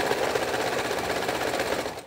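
A sewing machine stitches the belly seam of a fabric bird body, a close, fast, steady mechanical rattle that runs without pause and tapers off at the very end, with no voices.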